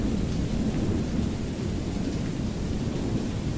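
Rain falls steadily in a video game under development, with a dense, even hiss and low rumbling thunder that continue without a break throughout.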